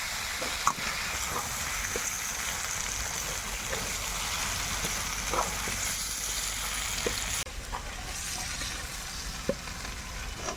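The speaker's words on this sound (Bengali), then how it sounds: "চিকেনটাকে সুন্দর করে কষিয়ে নিয়েছি" Chicken being browned and stirred in a pan for a home-cooked curry, with a steady, close sizzle and faint scrapes throughout and no talking.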